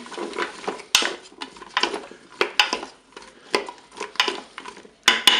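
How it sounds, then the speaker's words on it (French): Potato slices being mixed with oil inside a Cookeo multicooker bowl, a close, irregular series of utensil scrapes and clinks against the bowl with brief quiet gaps between strokes. "Vous ajoutez ensuite l'huile sur les rondelles de pommes de terre. Vous mélangez."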